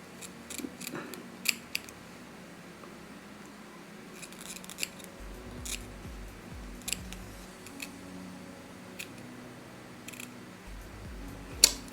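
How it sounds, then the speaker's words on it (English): Scissors trimming excess lace from a wig, with a series of sharp, close snips scattered in uneven bursts over a quiet room tone and a low intermittent hum. "So now we're going to cut the excess lace off."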